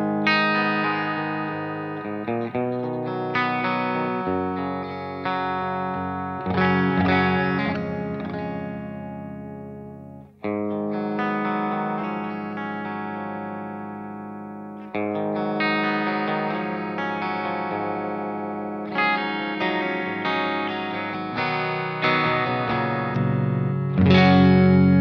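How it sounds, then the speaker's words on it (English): Stratocaster electric guitar played straight into a Friedman BE-100 Deluxe amp on its clean channel with the fat switch off, ringing sustained chords and arpeggiated notes with a chorus-like shimmer, loud and continuous for the whole stretch. "This is the sound of the Strat straight in."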